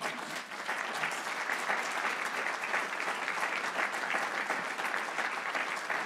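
A lecture audience claps steadily and densely throughout, a continuous wash of applause at moderate distance with no break or voices over it.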